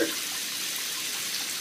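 Running water filling for Max's shower, a steady close hiss of flowing water that stays even throughout after a slightly louder splash at the start.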